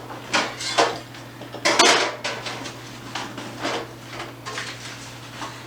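Metal baking pans handled in a home kitchen, clattering and clanking in a string of close knocks and scrapes, with a steady low hum underneath and no talking.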